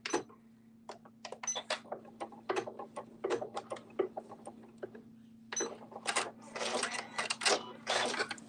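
A home sewing machine stitches quilt sashing with an elongated serpentine stitch, giving bursts of rapid mechanical clatter over a steady motor hum, starting and stopping, then running longer toward the end.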